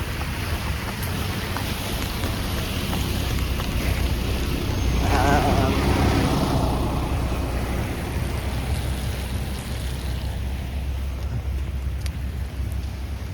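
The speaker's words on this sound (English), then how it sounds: "it's pelting down with rain." A dense, steady roar of heavy rain in Hobart, mixed with broadband wind-like rush and a low rumble, swelling slightly midway before settling.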